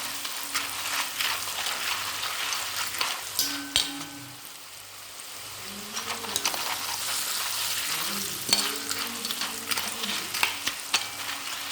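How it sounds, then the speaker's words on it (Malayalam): Jackfruit pieces deep-frying in coconut oil over high heat, oil sizzling and bubbling steadily, with a few clinks and stirring sounds over the continuous crackle. "തീ കൂട്ടിയിട്ട് തന്നെ വറുത്തെടുക്കാം"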